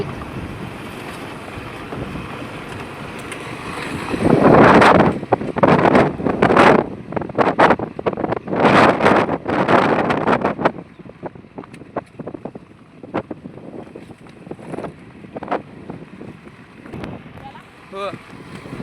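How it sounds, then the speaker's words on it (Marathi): Strong wind buffets the microphone at a village dam, with loud gusts roaring in the middle before easing to a lighter rush, while someone talks over it. "हे बघा, वारा पण लय सुटलाय"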